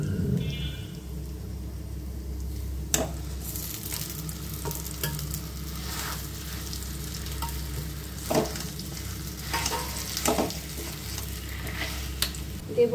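Potatoes frying in a pan while being stirred, a steady close sizzle broken by repeated scraping and knocking of the spoon, with no voices.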